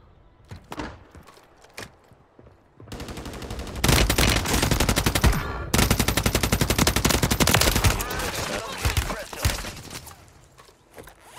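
Call of Duty Warzone Resurgence gunfire, SVA and RAM-9 rifles firing long rapid automatic bursts, loud and close, with scattered single shots before and after.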